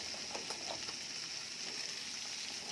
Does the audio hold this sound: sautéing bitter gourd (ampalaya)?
yes